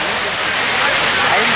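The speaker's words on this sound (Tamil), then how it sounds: "இப்போ நாங்கள் மெயின் ஃபால்ஸ் வந்திருக்கோம்." The Aintharuvi waterfall near Tenmala in Kerala roars as a loud, continuous broadband rush of falling water, close and steady.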